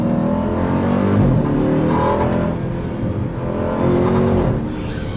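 A 2026 Dodge Durango Hellcat's supercharged engine revs hard and snaps through quick downshifts, its loud, throaty note rising and dropping in short bursts from inside the moving vehicle.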